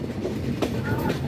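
Chitra Express passenger train rolling through Majhgram Junction in Pabna district without stopping, heard from aboard as a steady, close, continuous rumble with rhythmic wheel clatter.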